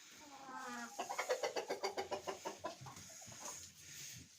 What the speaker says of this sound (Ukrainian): Ось я прийшла вже до курочок. Всі вони тут сидять, відпочивають, гулять не хочуть іти.